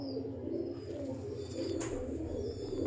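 Jonsiri pigeons coo in a low, repeated murmur at close range, with a faint brief chirp partway through and no voices.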